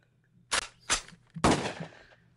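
Three separate gunshot-like bursts from a shotgun in the Zombicide board game, close and sharp. The last blast trails off longer, and there is a low steady hum underneath.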